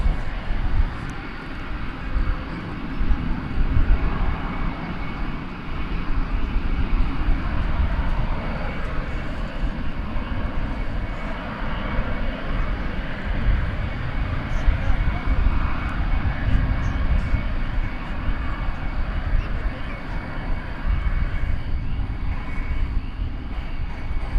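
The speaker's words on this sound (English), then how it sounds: "Some 777 action for you here on Runway DFW." A Boeing 777 on the move at DFW Airport at night, a steady rumbling engine roar that holds continuously with broad low-end weight, while a person talks over it.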